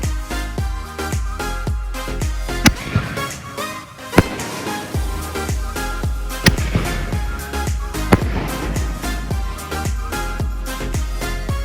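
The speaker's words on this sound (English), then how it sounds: "Tom wanted to finish off our last full day in Tennessee with some fireworks." Backyard fireworks on a last evening in Tennessee, a rapid run of sharp cracks and bangs, some loud pops standing out over crackling bursts and booming thuds, close by and continuous.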